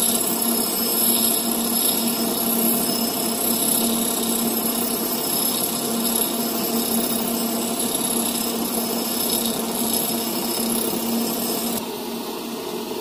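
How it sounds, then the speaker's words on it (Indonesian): A hand grinder works metal while prepping a small weld joint, giving a steady, loud, continuous high whine with a grinding rasp that holds for the whole stretch and drops slightly at the end, with no talking. "kemudian kita pakai gerinda tangan"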